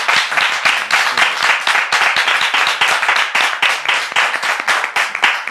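A studio audience claps enthusiastically, loud rapid applause sustained throughout without pause, close and dense, with no voices heard over it.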